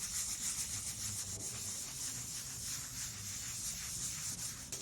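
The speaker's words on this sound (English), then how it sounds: "I'm just using like a scouring pad. And just work it in. Make sure you're feeling the grain." A scouring pad rubs reactive stain into wood grain. It makes a steady, close hissing scrub that continues evenly throughout, with no voices.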